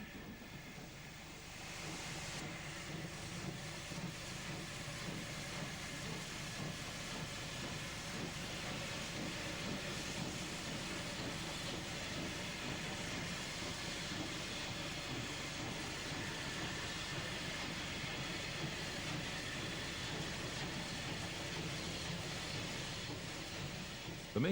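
Steam locomotive 34071 climbs out of Winchester, a continuous rumbling roar with hissing steam that holds steady and fairly distant throughout.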